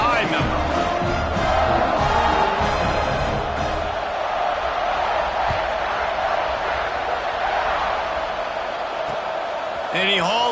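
A packed football stadium crowd roars steadily through kickoff, a dense wall of cheering and whooping with voices rising and falling in the stands, loud and continuous throughout.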